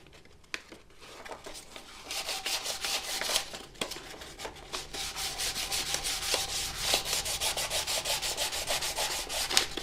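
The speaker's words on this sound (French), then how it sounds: "je vais commencer à poncer mes jantes. Donc on va faire un ponçage au 320 sur tout le tour" Hand sanding of car wheel rims with 320-grit abrasive during a paint-prep restoration, a steady continuous rasping rub with quick rhythmic strokes that grows louder and denser after the first few seconds, close and alone.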